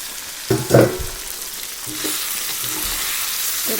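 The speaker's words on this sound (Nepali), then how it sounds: "मजाले फ्राई भएको छ यहाँनिर।" Meat with spices sizzling in a pan for chicken thupa: a loud, steady frying hiss with a few stirring scrapes and clatters near the start, and no voices.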